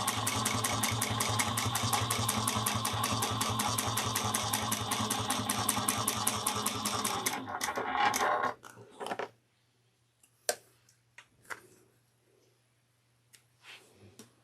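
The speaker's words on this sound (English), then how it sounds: "We're essentially top stitching the fold that we have down." A sewing machine top stitches along a folded fabric edge for a Sallie Tomato Ava bag pattern, running in a steady, rapid, close stitching drone for several seconds before stopping. A few faint clicks and handling knocks follow in near quiet.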